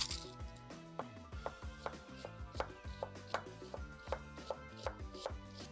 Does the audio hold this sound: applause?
no